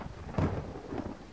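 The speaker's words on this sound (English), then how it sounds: "we can acquire more water now that it's raining" A storm in the survival video game Dead In Vinland: a low rumble of thunder swells over a steady hiss of falling rain, moderately loud, with no voices.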